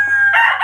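A Golden Boy Sweater gamefowl rooster gives a loud, close crow, a brief bright strained call with no talk over it.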